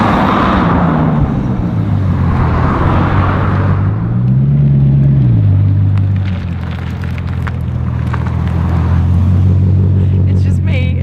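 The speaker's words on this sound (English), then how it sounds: "The special part is really when you're driving it and you hear the turbos." A Bugatti Chiron Sport is driven with its turbos audible: a deep, steady engine drone rises and falls in pitch as it accelerates and eases off, loud and close throughout, with a voice speaking over it.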